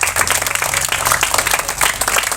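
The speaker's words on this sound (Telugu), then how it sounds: "గట్టిగా చప్పట్లతో స్వాగతిద్దాం మనం" Applause welcoming a guest at a retirement function, a steady, dense wash of clapping that runs throughout, with faint murmur beneath.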